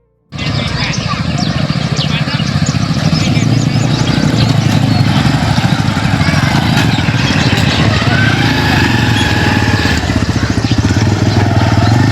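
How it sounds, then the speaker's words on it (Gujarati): A motorcycle engine starts abruptly and keeps running loud and close, a steady throbbing idle held for the whole stretch, with voices talking over it. "બાઈક લેવાનો છે."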